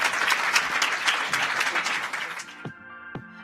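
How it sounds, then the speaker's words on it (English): An audience applauds a forum panel with dense, steady clapping that swells briefly and then thins out, leaving a few scattered claps at the end. "Please join me in giving them a round of applause."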